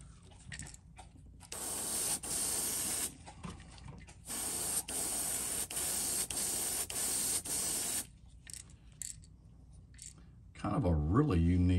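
Clear coat sprayed from an aerosol onto a painted flat-sided crankbait lure: several loud bursts of hissing spray with short pauses between, then a brief voice at the end.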